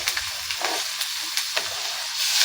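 Finely chopped onions fry in a pan for hotel-style idli sambar, giving a steady close sizzle with a few sharp crackles and spatters. No one speaks.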